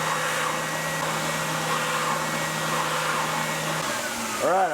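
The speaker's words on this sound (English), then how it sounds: "I think that's about as far as I want to take it on the spindle sander" Spindle sander grinding a guitar neck, a steady close-up whirring drone holding level for several seconds before the motor winds down with a falling whine at the end.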